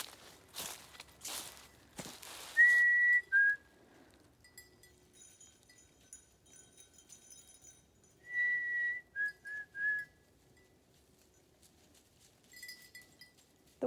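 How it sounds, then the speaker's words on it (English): A person whistles to call goats on a woodland walk, a few short high tonal whistles in two bursts separated by quiet, with footsteps and rustling in between. "The whistle is just a different way of saying, hey, goat."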